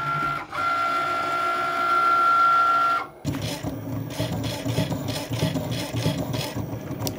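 A Cricut cutting machine slices sticker and wooden pin shapes, first with a steady whirring carriage drone, then a busier stretch of rhythmic rubbing, scraping passes and motor whine, close up with no talk.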